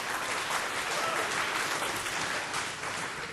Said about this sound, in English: Short applause for Laurens for having the guts to try it here in front of the audience